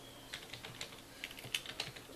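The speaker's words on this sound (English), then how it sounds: "or typing up the written part." Quiet typing on a computer keyboard, a loose irregular run of soft key clicks heard from a short distance over low room hum, with no talking.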